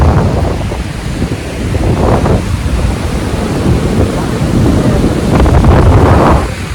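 Ocean waves wash against the seashore, a loud continuous surf roar with swelling surges, heavily buffeted by wind noise on the microphone.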